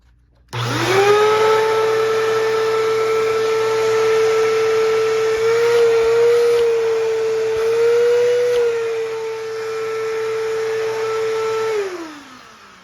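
An upright vacuum cleaner with a brush roll is switched on and runs as a loud steady motor whine with a droning hum for about eleven seconds, then winds down and stops.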